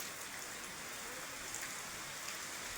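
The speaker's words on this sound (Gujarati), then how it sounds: "આમ જો આવો વરસાદ છે" Steady rain pours down outdoors in a summer downpour, a dense continuous hiss of drops striking surfaces, moderately loud and unbroken, with no voices.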